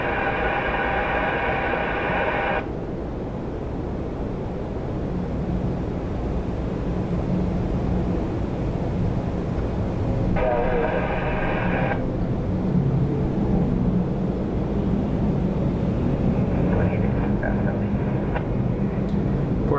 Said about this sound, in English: Porter 605, Embraer E195 E2 to LaGuardia.